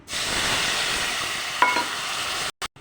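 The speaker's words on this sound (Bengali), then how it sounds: "গোটা জিরে ফোড়ন দিয়ে দিলাম" Whole cumin seeds tempering in hot oil for a pumpkin curry give a steady, close sizzle and hiss for about two and a half seconds, then cut off abruptly with a couple of brief clicks.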